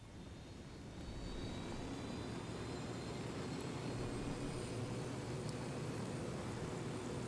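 An aircraft flying in the Ghost Recon Wildlands video game gives a steady, dense engine roar that swells slightly in the first second and then holds constant, with no voices.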